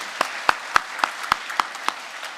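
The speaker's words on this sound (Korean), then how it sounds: "우리 하나님께 영광의 박수 해드리겠습니다" A church congregation at a Sunday morning service claps to give glory to God, about eight distinct, evenly spaced claps ringing out in a reverberant hall.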